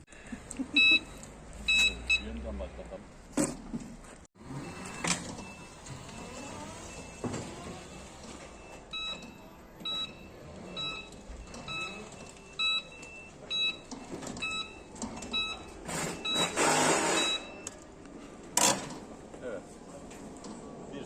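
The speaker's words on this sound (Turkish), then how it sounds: "Kornaya basıyoruz, çalıyor" Repeated short electronic beeps from an electric motorcycle horn sound in bursts, interspersed with clicks and handling noise, with a voice talking intermittently nearby.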